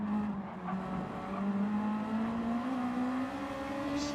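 Honda Civic race cars on a racing game's chicane, a continuous engine drone climbing steadily in pitch as the cars accelerate out, loud and close with no voices.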